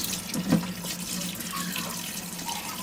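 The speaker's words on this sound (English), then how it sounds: "rinse each piece under running water" Tap water runs steadily into a sink as blanched pork leg pieces are rinsed under it, a continuous close splashing flow with a brief surge near the start.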